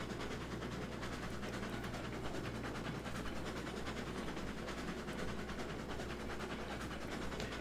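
A Tenmile locomotive hauls 29 freight cars over rails in Railroads Online, a steady, fairly quiet rolling rumble with a low engine drone and faint wheel clatter, and no voices.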